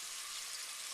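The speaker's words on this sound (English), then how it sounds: "I'm gonna put it all in and let this fry up a little bit" Ground beef frying in a pan gives a constant, even hiss of hot fat, soft and unbroken for a moment.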